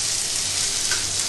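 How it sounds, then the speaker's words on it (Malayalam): Fish frying in a pan makes a dense, steady hissing sizzle, close and constant, with no voices. "ചേറുമീൻ 2 സൈഡ് നമ്മൾ ഫ്രൈ ചെയ്തിട്ടുണ്ട്"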